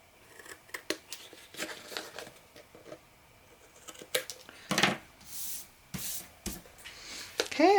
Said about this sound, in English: So I'm just gonna give them a tiny trim here.